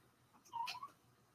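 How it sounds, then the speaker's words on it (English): A pet cat crying for attention indoors gives one short, faint, thin whining call that rises and falls over roughly half a second, alone against a quiet room. "My cat's crying because she wants me to come pay attention to her."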